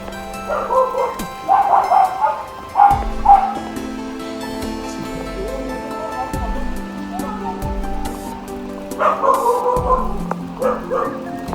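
Dobermans bark in loud, repeated bursts, several dogs near and agitated, over a steady wash of heavy rain.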